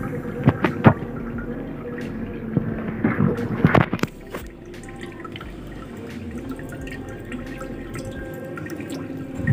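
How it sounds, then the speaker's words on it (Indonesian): Toman fish surfacing in dark water after feeding, with a few sharp splashes and drips early on, followed by quieter lapping water. "bunyi suara air dia naik habis makan dia"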